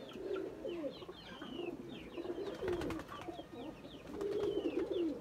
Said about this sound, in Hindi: बाकी जनाब कबूतर बहुत अच्छे हैं जी।